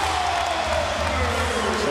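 A sellout crowd of more than 19,000 roars steadily at a Miami Heat versus Cleveland Cavaliers NBA basketball game in Miami, a dense, continuous wash of cheering filling the arena throughout.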